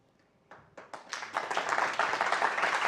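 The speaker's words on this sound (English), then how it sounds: "I don't even have to tell you to applaud anymore." Audience at the BSidesNCL 2022 security conference main stage breaking into applause after a talk, starting with a few scattered claps and swelling within a second into dense, steady clapping from a sizeable crowd.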